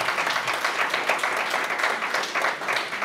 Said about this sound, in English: I think you should give all of yourselves a round of applause for coming out tonight.